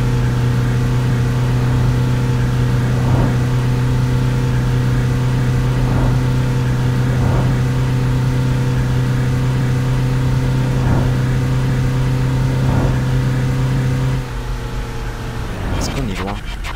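A tourist bus in Tourist Bus Simulator labours with a worn, struggling engine, a loud steady droning hum with faint periodic surges that drops off abruptly near the end, with talk running over it.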